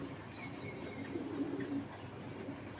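Soft, low cooing of racing pigeons at a pigeon farm rises and falls steadily over a murmur of background noise, moderately close and continuous throughout.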